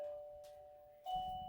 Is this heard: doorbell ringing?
yes